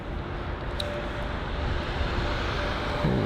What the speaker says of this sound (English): Oh, is that a 767?